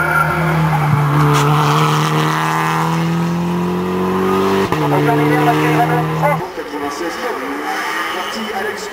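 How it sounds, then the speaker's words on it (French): A Renault Mégane rally car sits at the start line of a hill climb, its engine droning loud and steady with revving and a tyre squeal before it pulls away and fades, under a commentator's voice. "Alors que sur la ligne attend Philippe Pelge, la belle Renault Mégane Ticard"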